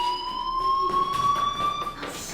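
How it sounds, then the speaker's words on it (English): A fire alarm in the video game Life Is Strange, a loud steady electronic tone with sharp harmonic overtones ringing continuously, close and alone. "do you hear that fire alarm?"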